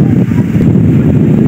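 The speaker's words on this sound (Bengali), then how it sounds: "দেখছেন, বাতাসটা এত পরিমাণ।" Strong wind buffeting the microphone outdoors in a steady, loud, low roar with no pause.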